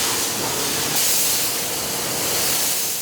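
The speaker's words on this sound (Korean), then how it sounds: "약하게 스프레이를 뿌리고요." Spray gun lightly misting bleach onto denim jeans in a jeans-washing workshop, a steady broadband hiss that runs the whole time, briefly louder partway through, with no talk.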